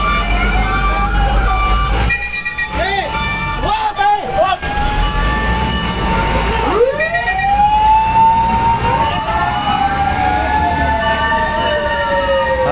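Several fire truck sirens wail and whoop, rising and falling as the vehicles pull away from a fire in Baseco, Port Area, Manila, with voices talking underneath.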